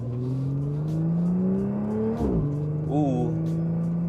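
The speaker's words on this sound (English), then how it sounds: "Ooh, hard shift." 400HP Audi S4 accelerating with a steadily rising engine drone, then an abrupt hard gear shift that drops the pitch before it climbs again, heard from inside the car with a voice speaking briefly.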